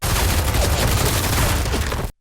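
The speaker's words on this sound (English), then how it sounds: "the Russians are all gunned down by a Ukrainian assault team" Sustained gunfire from an action film scene of an assault team shooting, a dense loud burst of rapid overlapping shots that cuts off abruptly into silence.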